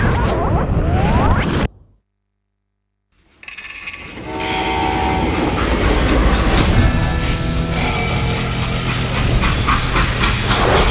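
A freight train in the Western game Call of Juarez Gunslinger rumbles loudly and continuously with horn-like tones, broken early by a second of silence before the noise resumes.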